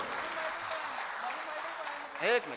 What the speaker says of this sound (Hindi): जोरदार तालियां बजाओ तो एक बार।